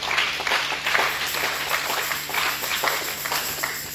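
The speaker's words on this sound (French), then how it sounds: "Acclame l'éternel Dieu." Congregation applauding during a Sunday church service, a steady wash of many hands clapping together in an indoor hall, fairly loud and continuous with no break.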